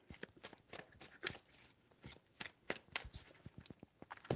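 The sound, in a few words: shuffling tarot cards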